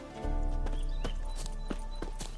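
A horse's hooves clip-clop in The Witcher video game, a close, loud, regular series of clopping steps over a constant low rumble of game ambience.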